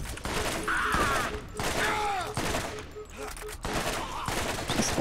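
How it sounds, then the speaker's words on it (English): Incendiary gunfire in the Borderlands video game, rapid bursts of shots repeating in clusters, with game effects and a voice mixed in. "I love the incendiary bullets"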